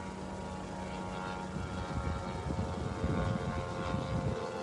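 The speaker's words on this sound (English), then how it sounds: "the drones that were flying in, quite literally completely unopposed" Attack drones fly in over Syzran, their steady propeller drone a loud, continuous buzz that swells slightly as they pass, with no talk over it.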